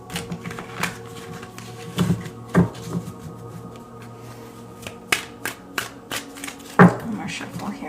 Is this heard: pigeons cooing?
no